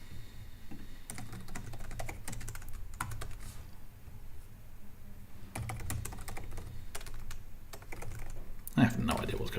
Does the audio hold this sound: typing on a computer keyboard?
yes